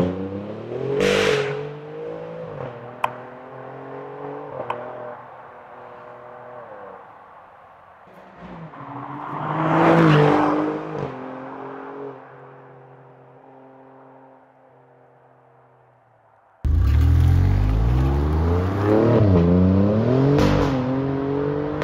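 Alfa Romeo Giulia Quadrifoglio with an Akrapovic exhaust, its engine blipped in several rising and falling revs with pauses between, ending in a louder, closer sustained rev; no talking.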